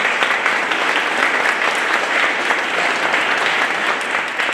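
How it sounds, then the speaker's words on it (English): A graduation ceremony crowd for SUNY Erie gives faculty, staff and administration a round of applause, a loud, dense, continuous wash of clapping from a big hall audience, steady throughout. "let's give the SUNY Erie faculty, staff, and administration a round of applause"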